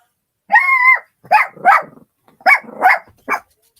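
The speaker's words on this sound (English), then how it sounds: "A barking Chihuahua." A Chihuahua barks sharply, one drawn-out yelp followed by five quick, high-pitched barks in irregular bursts, close and loud against silence.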